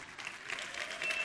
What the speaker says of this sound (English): loves a round of applause